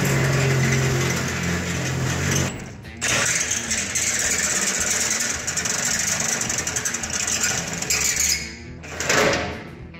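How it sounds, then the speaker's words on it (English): A drill boring a hole through the steel firewall of a 1968 Chevrolet C10 truck, a loud continuous grinding whir that cuts out briefly twice before starting again, heard up close. "So now that I have the hole drilled out in my firewall"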